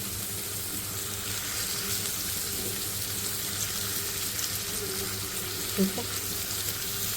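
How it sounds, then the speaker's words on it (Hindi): Minced chicken keema sizzles steadily on a hot tawa for street-style tawa fry, a continuous close frying hiss with a faint clink near the end, and someone speaks briefly. "इसके ऊपर मैं बिछा दूँगी कीमा"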